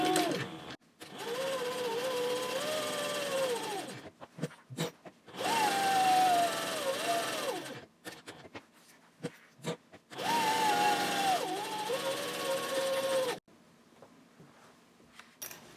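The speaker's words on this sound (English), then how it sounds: "So now I'm just basting the pocket along all 3 sides." Sewing machine basting a handbag pocket along three sides at a 3.0 stitch length, running in three loud, close bursts of whirring stitches separated by short stops and handling noises.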